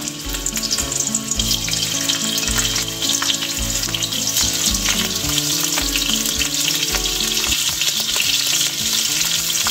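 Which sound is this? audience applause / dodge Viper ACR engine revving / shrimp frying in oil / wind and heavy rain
shrimp frying in oil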